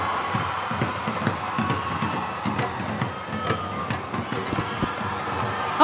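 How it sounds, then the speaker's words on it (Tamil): Audience at a Ponniyin Selvan film launch event cheers and whistles as Jayam Ravi is called to the stage, a steady crowd roar with scattered shrill whistles and claps, moderately loud and continuous. "கரகோஷம், விசில்கள்"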